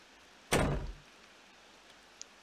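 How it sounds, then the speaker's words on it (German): In the horror game Ao Oni, a door unlocked with the basement key gives one sharp, loud knock-like thud that decays over half a second, followed by near silence with a tiny click. "Also irgendeine Tür kann ich damit jetzt wieder aufmachen."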